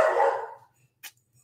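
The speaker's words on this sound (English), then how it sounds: "there goes the dog every time I'm live" A single dog bark, loud and close, followed by a short sharp yelp after a brief pause, in an otherwise quiet indoor room.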